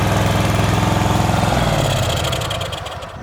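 A Dixon Pro ZTR2300 zero-turn mower engine idles with a steady, close throb, then winds down and fades as it is shut off.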